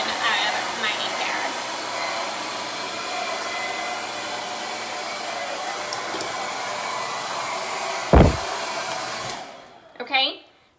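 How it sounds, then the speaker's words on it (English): A hair dryer blow-drying hair roars steadily up close for about nine seconds, then cuts off, followed by a brief voice. "so that's it for blow drying"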